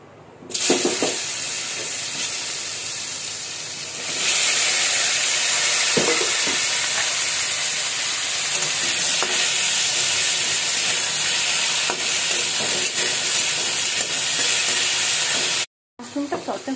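Vegetables sizzle and hiss steadily in hot oil in a pan after mushrooms have been sautéed, a loud continuous frying sound that swells partway through and breaks off briefly near the end.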